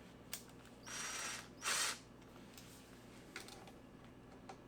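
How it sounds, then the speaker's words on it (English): A Hitachi cordless driver spins in reverse to back out T20 star screws from a straight-shaft weedeater gearbox head, giving two short whirring bursts about a second apart amid quiet surroundings. "So I'm going to be using my Hitachi cordless driver here."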